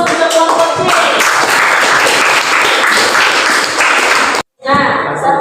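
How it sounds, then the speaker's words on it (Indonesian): Loud classroom applause for a student group during a religious studies lesson, many hands clapping close and steadily for about four seconds, cut by a brief silence before a short final burst with voices. "kasih aplaus untuk kelompok C"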